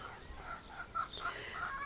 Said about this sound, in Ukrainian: Воно ну, курка кричить.